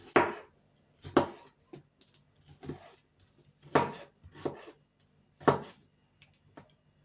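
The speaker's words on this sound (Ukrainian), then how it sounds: "І скрешу перчик." A kitchen knife chops a pepper on a cutting board, about eight sharp, close thuds in an uneven rhythm with brief pauses and faint scraping between cuts.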